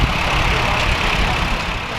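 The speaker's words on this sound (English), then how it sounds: "This next tractor is an Allis Chalmers RS from 1940, owned by Alyssa Skye of Lake Lillian." Allis Chalmers RS tractor from 1940 at a threshing show, its engine running as a steady, loud low rumble that holds even throughout, with no voices over it.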